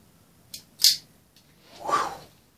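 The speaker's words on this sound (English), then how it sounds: "Just trimming them to length." Wires being trimmed to length with a cutting tool for three-way point wiring, giving two sharp close snips a moment apart followed by a longer, softer rustle as the offcut is handled.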